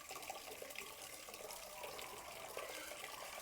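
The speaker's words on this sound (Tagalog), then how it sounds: "tukusog ang tubig. Aga sa gripo." A faucet runs strongly, producing a dense, even rush of water that holds steady throughout, close but moderate in level, with no speech.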